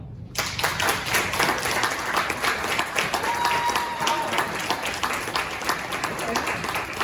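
Sustained applause from a sizable keynote audience at a brain injury association conference begins abruptly and continues at a steady level, with a brief faint tone and possible murmurs underneath.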